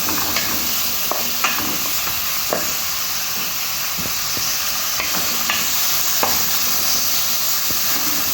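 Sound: stirring mung beans sautéing in a pan

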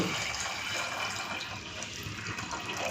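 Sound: water poured into pot of whole potatoes for ghugni

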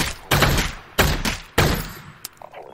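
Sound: shotgun fire in Half-Life: Alyx VR video game

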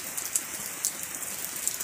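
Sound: light rain falling

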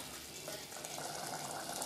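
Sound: spiced masala boiling in a pot

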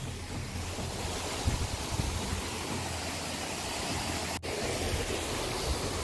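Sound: Shoja waterfall flowing, Jibhi, Himachal Pradesh

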